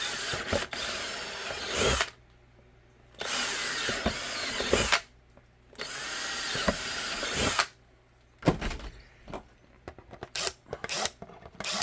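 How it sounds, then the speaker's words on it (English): Power drill boring out material on a handgun build, with four or five strong, close whirring runs of a couple of seconds each, separated by brief pauses and light handling noises, and no talk. "we'll take that and drill everything out"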